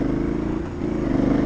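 An Aprilia Shiver 900 roadster engine runs at a steady, fairly loud idle with a low rumbling throb and no clear revving.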